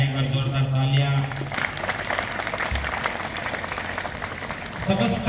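Applause in a school gathering honouring a guest, a continuous rustling clap-wash from the audience with a voice speaking over it at the start and a murmur of talk throughout.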